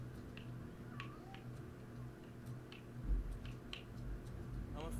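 A cat meows in the RoboCop: Rogue City video game, giving several short, faint high cries over a steady low hum of game ambience, with a soft thump around the middle.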